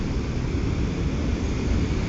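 A Wltoys S929 RC toy helicopter in flight, its small motor and rotor giving a close, continuous whirring drone at an even level throughout.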